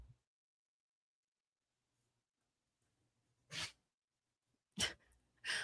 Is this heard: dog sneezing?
yes